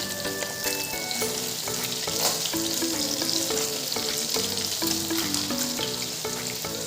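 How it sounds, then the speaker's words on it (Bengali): Fish fries in hot oil in a home kitchen, giving a continuous close sizzle and crackle with irregular pops and faint stirring, steady throughout with no talk. "দেখো পুরো তেল গরম হয়ে আসছে, মাছটা ভাজি বসিয়ে দিই"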